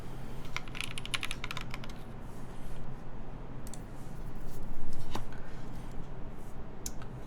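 Rapid clacky keystrokes on a Hance Industry Sela 70 mechanical keyboard, bursts of typing with brief pauses, close and fairly loud, no voices.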